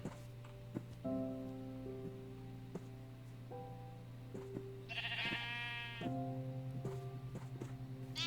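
Sheep bleating in Minecraft, a couple of wavering bleats over steady background music and soft plinking notes.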